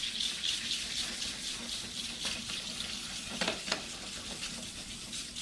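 Sandpaper rubbing a car headlight lens wet with cleaning solution, a soft, continuous wet scrubbing hiss at low volume with a couple of slightly firmer strokes midway.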